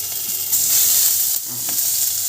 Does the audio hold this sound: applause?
no